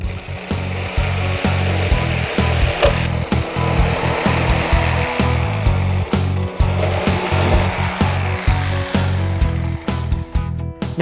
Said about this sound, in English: Nothing like power tools to start your day.